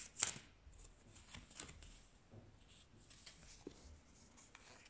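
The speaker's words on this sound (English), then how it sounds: "Let's shuffle some more cards." Tarot cards being shuffled by hand, quiet soft riffling and sliding with a sharper snap near the start, then scattered light taps and rustles, close and faint.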